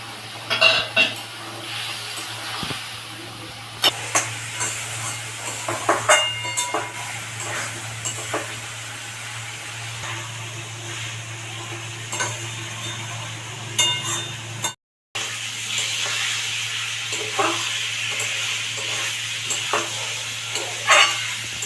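Spice paste for a rohu fish curry sizzles in a pan while being stirred and scraped, with a steady frying hiss, frequent utensil clinks and a short break partway through.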